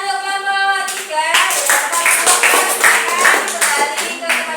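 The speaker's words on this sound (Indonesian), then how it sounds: "Tepuk tangan untuk kelompok 3." A classroom of students claps for a group after their astronomy answer, a brisk burst of rhythmic clapping close by that follows a teacher's voice and carries on to the end.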